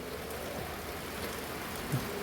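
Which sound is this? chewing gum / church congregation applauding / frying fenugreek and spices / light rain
light rain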